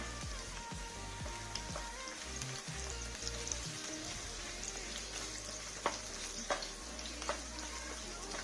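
Spicy chicken with onions is stirred in a hot pan, a faint steady sizzle and crackle with dull scraping and a few sharp clinks of the spoon against the pan, heard close and without talk.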